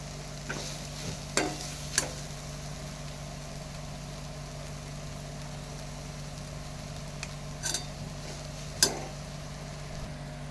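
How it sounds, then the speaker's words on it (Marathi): A spice paste of turmeric, red masala and garam masala frying in a little oil, a faint steady sizzle over a low hum, with a few sharp clinks of a stirring spoon against the pan. "थोडस तेल घालून परतून घ्यायचं"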